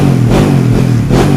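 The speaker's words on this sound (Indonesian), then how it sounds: "Ini coba kita geber dikit-dikit ya guys." A modified Yamaha DT 150 motorcycle engine revs loud and close, a steady rasping roar that swells slightly in two short pushes of the throttle.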